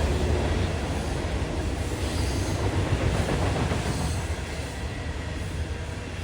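A loaded or empty coal train rolls past at North Collier, a loud, steady rumble of wheels on rail with faint clickety-clack throughout, close and continuous with no voices.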